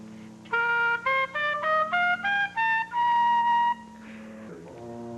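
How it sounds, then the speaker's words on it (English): Oboe playing a short melodic phrase of separate reedy notes that climb step by step and end on a longer held tone, followed by a brief soft murmur. "I chose to play the oboe because it has a different sound."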